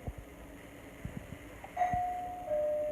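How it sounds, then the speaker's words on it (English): A doorbell chimes once, a clear electronic tone that rings out and sustains, following a few soft knocks and taps. "And there's my doorbell."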